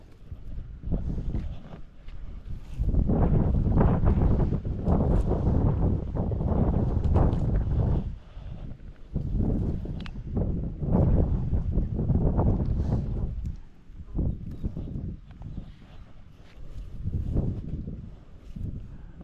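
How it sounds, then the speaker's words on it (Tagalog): Steady, heavy wind rumble buffets the microphone throughout, with low roaring gusts rising and falling and faint knocking underneath. "dahil malakas ang hangin."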